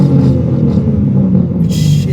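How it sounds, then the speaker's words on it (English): An Imola Red BMW G80 M3 with an equal-length mid-pipe and catted downpipe revs briefly, producing a loud, deep, steady engine rumble close by. "Give it a rev a little quick."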